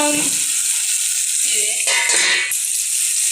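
Curry leaves dropped into hot oil while cooking a Telangana-style quail curry for bagara rice, giving a short bright sizzle that crackles close to the pan and then fades.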